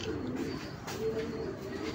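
Soft, low pigeon coos repeat close by against a steady background hiss.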